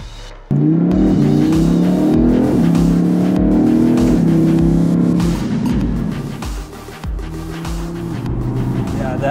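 A yellow Audi company car accelerating hard, loud engine revving up through rising pitch before settling into a sustained drone and easing off, close to the listener, with people talking over it.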